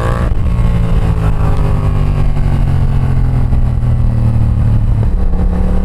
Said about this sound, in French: Je sais pas si vous entendez le bruit du pot, c'est incroyable.